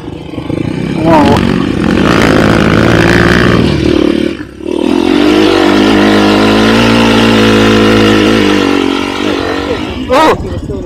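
A Yinxiang-engined sport motorcycle revving loudly close by while riding, with a steady high engine drone that swells and dips, briefly drops off, then returns. Someone talks over the engine noise.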